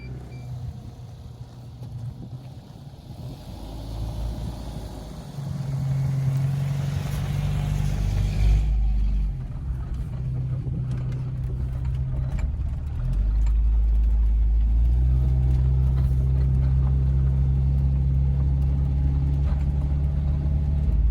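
A pickup truck carrying a camper pulls off, its engine rumbling low and then rising in two stages as it accelerates into a steady, loud cabin drone.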